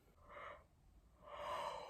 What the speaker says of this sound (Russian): У меня чуть глаз не вылетел, пока я зевала.